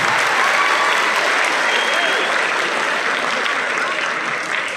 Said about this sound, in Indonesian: kalau mau tepuk tangan harus semuanya